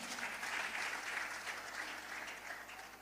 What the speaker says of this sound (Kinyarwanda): Komera Imana amashyi menshi.